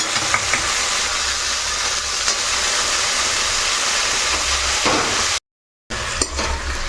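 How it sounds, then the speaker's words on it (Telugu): Coriander leaves fry in hot oil in a pan for a green coriander-ginger chutney, giving a steady, loud hiss and sizzle with faint stirring scrapes, broken by a short silent gap near the end. "ఇప్పుడు కొత్తిమీర మొత్తం ఇందులో వేసుకొని వేయించుకోవాలి"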